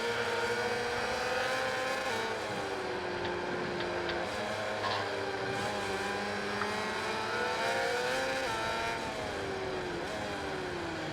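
A racing motorcycle engine in MotoGP 21 screams continuously at high revs, pitch sweeping up and down through gear changes and braking, loud and steady throughout with no talk.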